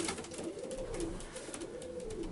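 Racing pigeons of the 2023 young-bird generation in a loft in Sibiu, Romania, coo softly in low, rolling phrases, a quiet murmur of several birds up close with light background noise.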